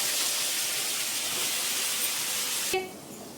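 Liver pieces sizzling loudly in hot oil in a pan, a dense continuous hiss close up that drops off sharply near the end.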